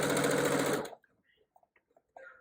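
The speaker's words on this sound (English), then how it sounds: "now I'm gonna sew down this side" A sewing machine stitching a holiday bag runs in a loud, steady close burst for about a second, then stops, leaving quiet faint clicks and handling sounds.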